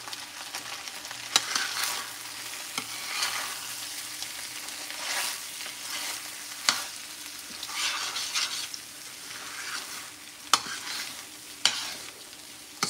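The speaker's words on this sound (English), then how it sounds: "Stir from the bottom, because if you got a pan like me, this old pan, it likes to stick a little bit" A spoon stirs creamed corn in an old pan that tends to stick, scraping and sizzling softly and steadily with occasional sharper knocks against the pan. No one speaks.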